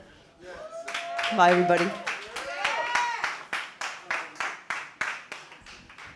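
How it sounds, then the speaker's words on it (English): A fundraiser audience applauds a Ward F council candidate at a campaign event, with sparse scattered claps at first that settle into a steady rhythmic clapping beside a sustained musical tone; a voice speaks briefly partway through. "Give a round of applause for Robin Gorman."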